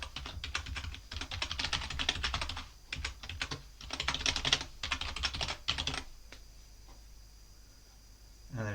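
Computer keyboard typing on a Linux desktop, rapid clicking keystrokes in bursts with brief pauses, close and fairly quiet, stopping in the last few seconds.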